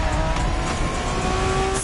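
A Honda NSX, a 1990s sports car, driven in The Crew Motorfest, a steady loud engine drone with faint tire noise, continuous and close.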